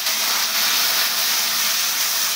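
Potatoes fry in a pan with mustard oil and chili while cooking a drumstick (sahjan) curry, a steady loud sizzling hiss close up with no talking over it.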